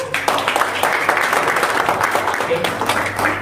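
Steady applause from an audience, a dense wash of many hands clapping at once, continuing for a few seconds with some talk mixed in.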